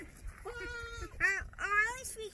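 A goat bleats nearby in a few wavering calls: one longer bleat, then two shorter ones close together, with a person's voice faintly in the background.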